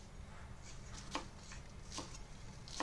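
A knife chopping 9 grams of scallion on a board: a few sharp, separate cuts spaced about a second apart, close and fairly quiet over a low steady background hum.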